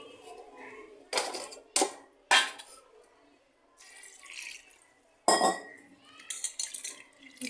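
Bitter gourd pieces are washed in water in a bowl in a home kitchen, with splashing, sloshing water and clinks of the bowl in irregular bursts, close by, between quieter moments.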